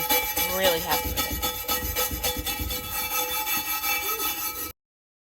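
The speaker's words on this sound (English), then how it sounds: "With a bit of elbow grease, you can see that the rust is coming off." Wire brush scrubbing rust off metal in quick repeated back-and-forth strokes, a harsh rasping scrape with a squeak or two, stopping abruptly.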